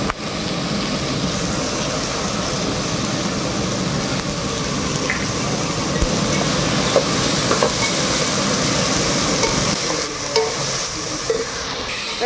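Butter beans, soya beans and peas sauté in a pan with salt, giving a loud, continuous close sizzle and crackle that runs steadily for the whole stretch, with brief scraping stirs near the end.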